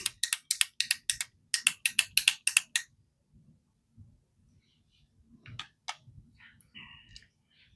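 A Colourpop So Juicy Plumping Gloss Balm in shade Vacay Mode being clicked up. A rapid series of crisp, close plastic ratchet clicks runs for about three seconds, then gives way to faint handling noises and soft rustles.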